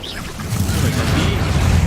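Bombarda explosion spell from Hogwarts Legacy, a dense low rumbling blast that swells and holds loud for about two seconds, with faint game effects above.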